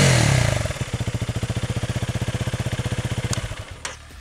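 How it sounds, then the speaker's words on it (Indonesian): A motorcycle engine drops from a loud rev into a rough, thumping idle, then sputters and cuts out with a couple of clanks. "Geber tinggi dong, geber tinggi."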